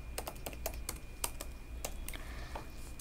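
Code is typed on a computer keyboard during an AJAX tutorial, a quiet, steady run of soft key clicks at an uneven rhythm over a low background hum, with no speech.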